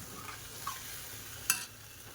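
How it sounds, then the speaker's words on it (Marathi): Dal stirred in a cooking pot, a faint low sizzle with a few soft scrapes and one sharper clink of the spoon against the pot near the middle. "डाळ टाकले, चांगले व्यवस्थित ढवळून घेऊया।"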